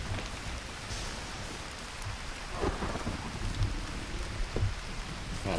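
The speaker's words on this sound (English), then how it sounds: "Lightning hit me." Thunder rumbles through a lightning storm in a survival video game, with steady rain and a few deeper rolling booms, fairly loud and continuous with no talk over it.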